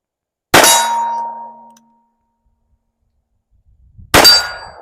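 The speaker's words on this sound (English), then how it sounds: "So let's take a few shots at about 20 yards here." A Magnum Research BFR revolver loaded with .44 Special fires at steel targets about 20 yards away, and two separate shots each end in a bright, ringing clang from the struck steel, with quiet between them.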